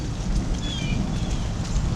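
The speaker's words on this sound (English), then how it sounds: "And now it's just light rain." Light rain from the outer bands of Hurricane Ida falls steadily outdoors at a rural home place, a soft, constant hiss with low rumbling wind noise, no voices.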